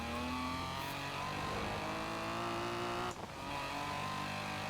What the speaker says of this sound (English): It still revs out very, very high.